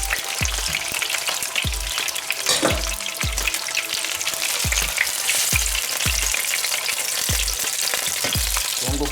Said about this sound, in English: Brown them on all four sides.